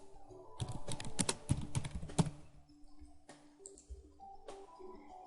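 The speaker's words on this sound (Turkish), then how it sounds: "ara veya enter tuşuna basarız" Typing on a computer keyboard in a quiet room, a quick burst of close key clicks followed by a few isolated presses, including a firmer enter key tap.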